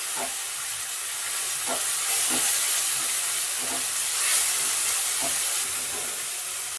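Coriander spice mix with turmeric and cumin sizzles steadily in a pan for mutton ghugni, a continuous close hiss with faint stirring scrapes now and then.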